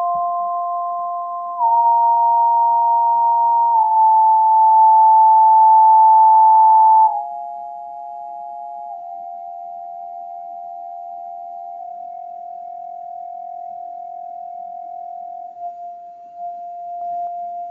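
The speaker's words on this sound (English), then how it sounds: "as I bring the top note closer to the lower note, I want you to start to notice we're going to get into like beating" Two sustained pure tones, the upper one gliding down step by step toward the lower until they merge in unison, producing a wavering beating pulse that slows as they converge; steady, clear and alone with no talking.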